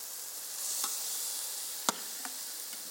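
Salmon and coco de Paimpol beans sweat gently in a pan, giving a soft, steady low sizzle with a few light utensil clicks and taps. No one speaks.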